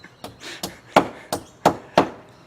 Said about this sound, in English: He's got a hammer and he's not afraid to use it.